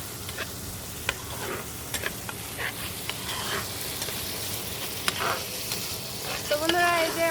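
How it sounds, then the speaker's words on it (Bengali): Spice paste with onions sizzles and fries in a pan for shrimp poppy-seed curry, with intermittent spoon scrapes and stirring clicks over a steady soft hiss. "সুন্দর করে একবার কষাই নিচ্ছি মশলাটা"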